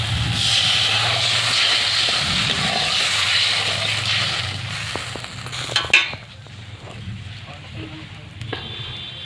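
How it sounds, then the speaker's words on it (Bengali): Water poured into a hot pan for a pointed gourd curry sends up a loud, steady steam hiss for several seconds, then drops away into quieter bubbling, with a few close clatters and knocks at the end. "এবার জলটা দিয়ে দিই।"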